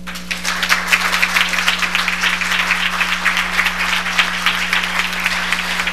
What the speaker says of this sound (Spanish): fuerte aplauso a la maestra María Elena Frade por esta presentación